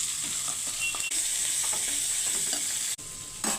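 Green chili and onion pieces sizzle steadily in a pan alongside curry leaves, a close, even frying hiss with faint stirring knocks and a brief break near the end, no voices.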